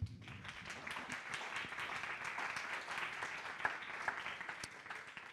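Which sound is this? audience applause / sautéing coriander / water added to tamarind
audience applause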